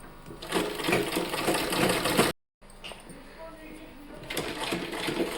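A sewing machine stitches folded warm fabric for a child's cap, running steadily and close with one brief stop, while someone talks over it.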